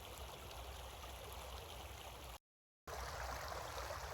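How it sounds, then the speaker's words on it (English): A river rushes steadily beside a campsite, a constant broadband wash of flowing water, close and even, with a brief silent gap midway. "It's like the perfect soundtrack, just listening to the river."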